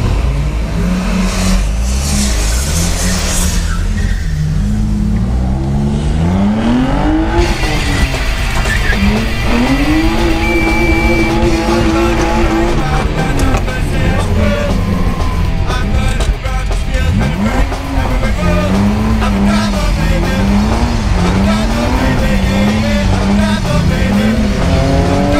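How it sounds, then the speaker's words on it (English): Car drifting laps at a farm gymkhana event, engine revving hard and rising and falling in pitch while tires squeal and skid repeatedly, loud and close for the whole stretch without talk. "So I'm just gonna hop in with Justin and do a little lap around."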